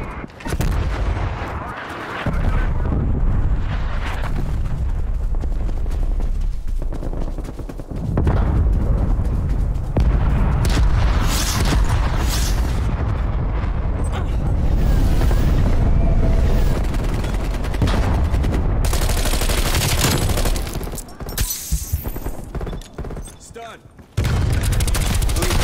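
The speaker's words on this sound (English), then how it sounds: "All artillery targeting active" Artillery strike in the video game Black Ops Cold War, heavy booming explosions and scattered gunfire rolling through a loud battle soundscape over about twenty-five seconds, with brief drops between waves and speech mixed in.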